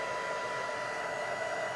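A hair dryer blows steadily and close, a continuous whirring rush of air with a faint motor whine, used to dry an air dry clay mandala craft piece before applying Distress Oxide inks.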